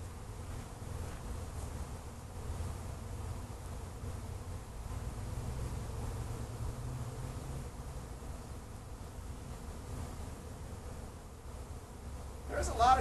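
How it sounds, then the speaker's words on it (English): A bee swarm inside a tree, with a steady low buzzing drone of many bees close by, continuous throughout and rising slightly in loudness at the very end. "There's a lot of bees in here, hanging out."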